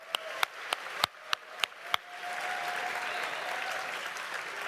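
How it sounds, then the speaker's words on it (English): A panel audience claps in a string of sharp, separate claps that quickly swell into a dense burst of applause, fairly faint and somewhat distant in a large room. "That's like the first applause of the panel."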